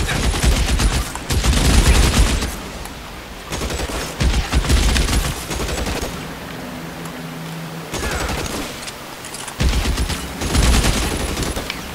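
Bursts of machine gun fire in the shooter-style video game L.A. Noire, loud and close, several sustained volleys separated by short quieter gaps.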